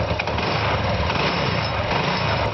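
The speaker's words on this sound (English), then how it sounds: "now I crank the engine." An engine, used as the heat source for a waste-heat electricity generator, runs with a loud, steady, buzzing drone that continues without a break, with no talking over it.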